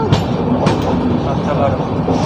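Kolkata–Jammu Tawi express, train 13151, running on the line, a dense close rumble of carriages with sharp wheel clicks, steady and loud throughout.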